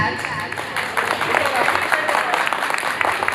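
A crowd of school alumni from the 10th B batch claps in a lively burst of applause, with voices and cheering mixed in throughout.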